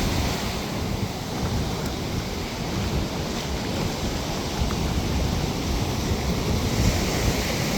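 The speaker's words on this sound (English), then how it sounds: "Just wonder what we have in store for tonight for wild waves and stuff. Because it's coming in pretty good right now." Ocean surf rolls in steadily on a beach, a continuous loud wash of breaking waves mixed with gusty wind buffeting the microphone, with no voices.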